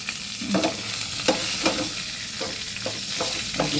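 Spices and a slit green chili temper in hot oil for a cabbage and prawn dish, a bright close sizzle with rhythmic scraping stirs about every half second.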